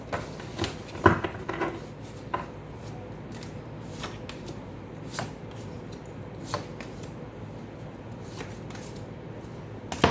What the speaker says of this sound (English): These are very big, very difficult to shuffle like this.